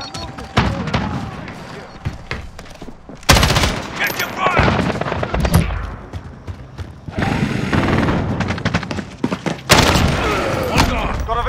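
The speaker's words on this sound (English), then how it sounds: "Sentry gun's hot." Sentry gun firing in the shooter game Call of Duty: Modern Warfare, with bursts of rapid machine-gun fire and heavy booms during a team deathmatch, loud and close, interleaved with in-game voice callouts.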